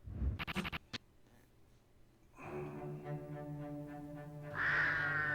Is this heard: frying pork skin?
no